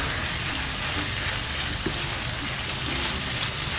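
Pork sautéing in hot oil, a dense, continuous sizzle and crackle that stays steady and fairly loud from start to finish, with no voices over it.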